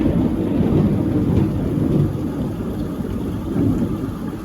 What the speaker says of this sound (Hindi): तो बादल के कड़कने की आवाज़ थी